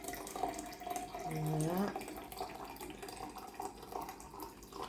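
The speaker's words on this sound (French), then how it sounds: "Je rajoute de l'eau." Water poured from a tap into a pot over a bar of bouillon, a steady running splash that rises in pitch briefly as it fills, with a voice speaking briefly.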